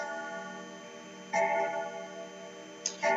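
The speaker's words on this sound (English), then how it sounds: "whether or not this grandfather clock is going to stop ringing anytime soon." Grandfather clock sounding indoors: a steady resonant tone with two distinct strikes, one near the middle and another just before the end, fairly close and moderately loud with no talking.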